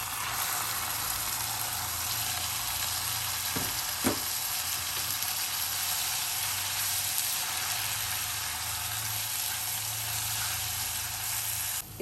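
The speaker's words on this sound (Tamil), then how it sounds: "இப்போ இந்த ஸ்டேஜில் தக்காளி பழத்தை போட்டுருங்க" Continuous frying sizzle of onions and garlic in a pan for shakshuka, with a brief stir or drop as tomatoes go in, then a steady hiss.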